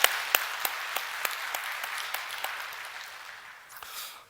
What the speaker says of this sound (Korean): 우리 찬양들을 위해서 다시 한번 격려의 박수 해드리겠습니다